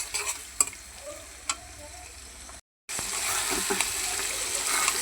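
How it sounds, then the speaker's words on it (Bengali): Chicken pieces stir-fried with spices sizzle close by, broken by scraping and clinking of a spatula, a brief dropout, then a denser, louder frying hiss. "মাংসগুলো আমি ভালো করে কষাই নিতেছি সব মশলা দিয়ে দিছি"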